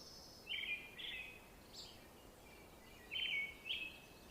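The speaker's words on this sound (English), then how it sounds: "I can hear birds." Faint, high chirps from a bird come in short pairs of notes against a quiet background hiss, somewhat distant.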